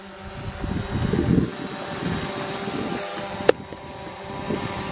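A DJI Mavic Pro drone flies with a steady propeller hum as it comes in to land after hitting a waterfall and crashing, broad and even near the microphone, with one sharp click partway through.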